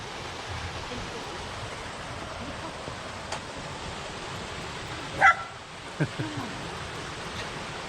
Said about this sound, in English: Happy little dog.